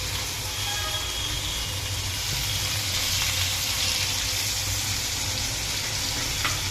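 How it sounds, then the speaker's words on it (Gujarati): Stuffed okra (bharela bhinda) in a yogurt-based curry being gently stirred with a spoon in a pan, a steady close sizzle and bubbling hiss running the whole time without talk. "ચમચાની મદદથી હલાવશું મિત્રો"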